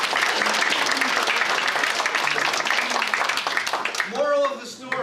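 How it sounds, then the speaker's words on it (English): An audience at a conflict workshop gives Gary a round of applause, brisk, full clapping that tapers off as a voice begins talking near the end. "An applause for Gary."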